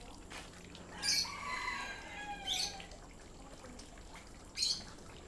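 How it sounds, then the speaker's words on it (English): Loud birds in Singapore give three sharp squawks, spaced out over a soft background hiss, fairly close by. "They got birds too."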